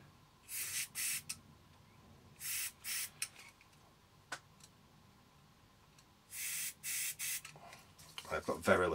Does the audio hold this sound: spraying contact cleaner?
yes